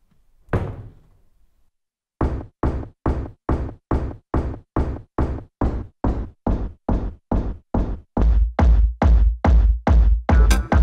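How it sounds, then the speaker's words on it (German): A door is slammed shut once with a loud, hard bang, then after a pause the slam sample repeats as a steady, rapid rhythmic pattern of punchy hits, growing heavier and bassier toward the end. "aus einer Tür, die ich jetzt so zuschlage"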